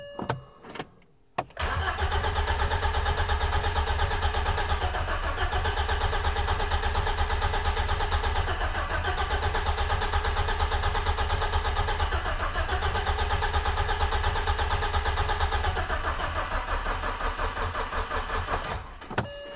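A BMW engine is cranked on the starter during an oil pressure check, with a short click and a pause before a long, loud, steady rhythmic cranking churn of about eighteen seconds that ends abruptly.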